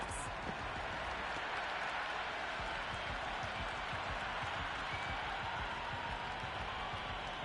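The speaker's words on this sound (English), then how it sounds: "The crowd are really getting quite raucous." A large video-game cricket crowd at a T20 match roars and cheers steadily at a distance, a dense wash of noise with scattered claps and shouts rising within it.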